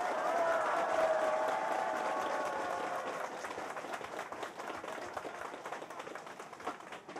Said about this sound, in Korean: 우리 여기 나오신 구청장 국회의원한테 박수 한번 쳐주세요.